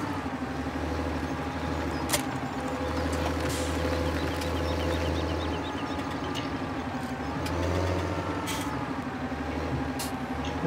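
A tractor engine in the video game Farming Simulator 2017 drones quietly and steadily while driving, a low, constant hum that never stops, with no one talking over it.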